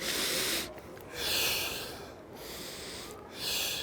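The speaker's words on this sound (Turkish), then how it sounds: "Şimdi tekrar nefes aldım." Deep, hissing breaths drawn in through the nose during a back-strengthening exercise, repeated about three times in a slow rhythm, close to the microphone and with no talking.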